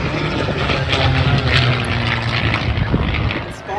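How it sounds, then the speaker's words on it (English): A Merlin 12-cylinder liquid-cooled aircraft engine drones loudly and steadily as a propeller plane flies over the Bray Air Show, a sustained rich roar with a steady low throb and crowd ambience around it. "Sound of a Merlin 12-cylinder liquid-cooled engine."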